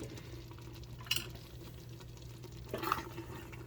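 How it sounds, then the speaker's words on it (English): Two brief scrapes of a utensil stirring thick chili in a pot, faint and soft over a low steady hum from the stove. "give it a one last stir"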